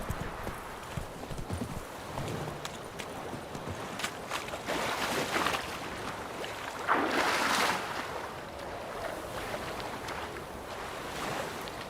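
Hooves of Roach, Geralt's horse in The Witcher 3, clip-clop steadily and loudly throughout, with rustling motion and a swelling whoosh of wind or surf partway through.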